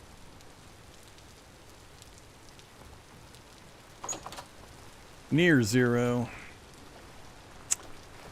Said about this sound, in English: Alright, and it's still raining.